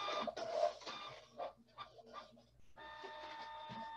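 An office printer runs through a page, with mechanical whirring and feeding noises and a steady high whine in the last second, fairly quiet and close.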